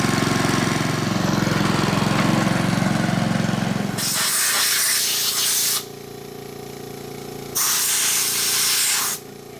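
A Honda HRR2167VXA self-propelled lawn mower runs steadily at close range with a constant engine drone, and two loud hissing bursts rise over it partway through. No one speaks.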